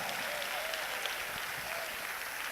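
A congregation applauding during a church sermon, a fairly faint, continuous wash of clapping spread across a large room, with a faint voice briefly heard over it.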